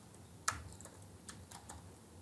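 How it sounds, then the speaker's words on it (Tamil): Keys clack on a Mac computer keyboard: a handful of light, scattered taps at an irregular pace, close by and quiet. "இப்போ நான் ஒரு விஷயத்தை டைப் பண்ணுறேன்."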